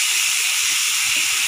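Tomato puree hits a hot pan and sizzles in a loud, steady hiss with faint bubbling pops underneath.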